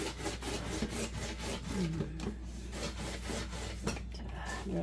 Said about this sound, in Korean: 열심히 감자를 갈고 있습니다